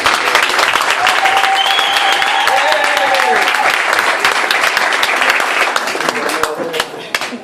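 A large audience applauds continuously, dense and loud, with a few voices and whistles rising over the clapping before it begins to fade, at an anniversary event honoring a Belgian senator.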